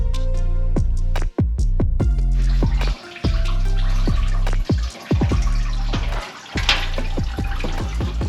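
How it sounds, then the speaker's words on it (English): Coolant drains from a C10 truck into a container in a steady gurgling stream, with repeated close clunks and splashes breaking up the flow. "let's drain the coolant out"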